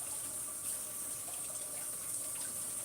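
Hot water runs steadily from a kitchen tap, a constant close hiss and splash with no talk, used while smoothing buttercream on a cake.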